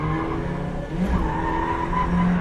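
A Mazda MX-5 Miata slides sideways in a handbrake drift, its tires skidding and squealing loudly and continuously over the steady roar of the engine.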